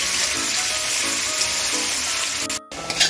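Onions and green chillies frying in a pan, a steady sizzling hiss that runs throughout and breaks off briefly near the end.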